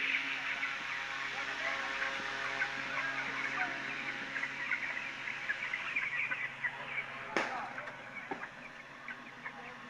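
Sixteen-day-old chicks on a hot poultry farm keep up a constant chorus of soft clucks and cheeps, a busy crowd of birds heard close and steady, with one brief sharp knock partway through.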